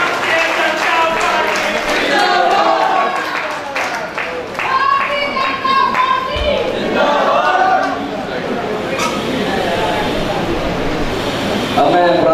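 Audience at a BJP party training camp in Chandigarh clapping in a hall, a steady, fairly loud wash of applause mixed with crowd chatter and a voice over a speaker system.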